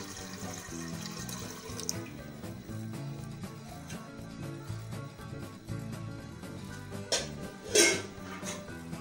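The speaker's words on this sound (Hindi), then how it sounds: "पानी ले लिया है मैंने 1 लीटर" About a litre of water runs from a kitchen tap for chicken corn soup, a steady splashing stream with occasional clinks of pots and dishes nearby.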